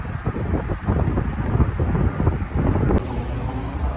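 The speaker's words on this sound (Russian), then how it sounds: "вот этот ветер такой теплый, сильный, он прям как такой майский" Strong, warm breeze roars steadily across the microphone, a dense low buffeting rumble that gusts continuously for several seconds with no voices.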